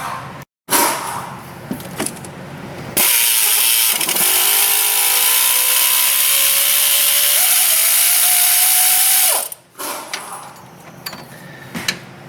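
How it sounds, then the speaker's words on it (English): A 10mm air ratchet buzzing off water pump bolts on a Honda J35 3.5 V6 during timing belt work, loud continuous whirring that runs for about six seconds with rising pitch, bracketed by shorter bursts and clanks. "we're going to go down there with a 10mm air ratchet, and we're going to buzz the remaining bolts in the water pump off"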